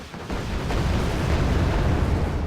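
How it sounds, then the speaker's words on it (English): Rockets slamming again and again into a Leopard 2 tank during a wargame match, a dense, continuous roar of rumbling blasts and pops that stays loud throughout. "Leopard 2's getting rocketed to death."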